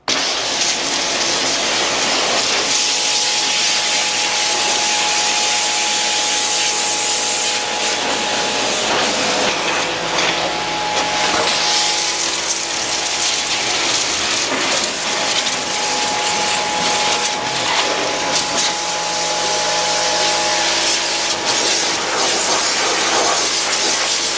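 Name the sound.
Giraffe Tools air compressor running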